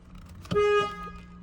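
A single short horn honk from a 2012 Ford F-150 sounds nearby after a clock spring replacement, a brief bright tone lasting under half a second amid quiet background.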